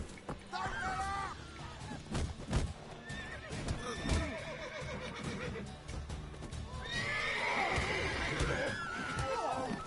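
A horse in the video game The Witcher 3 whinnies repeatedly in high, wavering neighs while its hooves clip-clop steadily underneath, with a voice speaking briefly amid the scuffle and a busier burst of neighing near the end.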